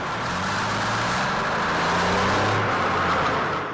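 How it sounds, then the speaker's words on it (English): A 30-ton truck, heard as if through an elderly man's hearing aid, rumbles past as a loud, muffled, steady wash of engine and road noise with a low droning hum and no voices. "This is what the same truck sounds like to a 75-year-old man with a hearing aid."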